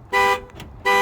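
Panic alarm on a 2011 Ford Crown Victoria Police Interceptor, set off by a remote keyless entry fob: two loud, harmonic horn-like blasts with a quieter gap between them.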